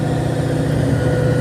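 A large fishing boat engine runs steadily and loud at close range, a constant low rumble with no talk over it.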